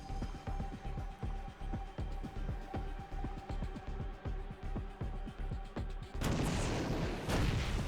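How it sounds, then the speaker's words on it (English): Siege tanks in StarCraft 2 pound away in a rapid, steady barrage of heavy booms and explosions, ending in a louder, denser burst of blasts. "Siege tanks exploding everything."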